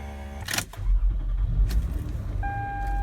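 2004 Lexus RX330 with about 275,000 miles cranking briefly and catching, a short starter whir followed by an engine settling into a steady low idle, heard from inside the cabin with a faint electronic chime near the end.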